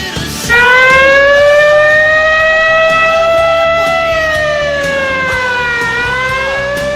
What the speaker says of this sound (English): Siren means factual error.